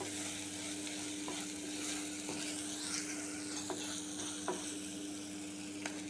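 Dried prawns frying in a pan, giving a steady close sizzle with occasional stirring scrapes and small pops, no talking.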